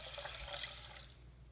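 Hot water pours into a pot of rice in a home kitchen, a steady close splashing rush of liquid that eases off toward the end.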